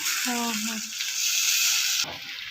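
Tomatoes are dropped into hot oil in a frying pan for a home-cooked curry, setting off a loud, continuous sizzle that fills the short moment; a brief voice is heard at the start.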